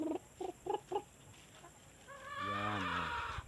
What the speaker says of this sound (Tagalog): dami tayong alagang mga manok